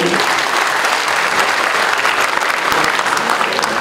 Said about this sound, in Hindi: आप लोग अपने लिए एक बार जोरदार तालियां बजा दीजिए